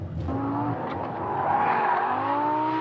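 A Lamborghini Gallardo LP570-4 Superleggera with four-wheel drive laps a race track. The engine note climbs steadily under load while tires squeal and scrub throughout, loud and close from onboard, with no talking.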